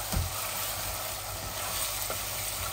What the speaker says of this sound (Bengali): আমার চিকেনটা ভালো করে কষা বোনা করতেছি আমি।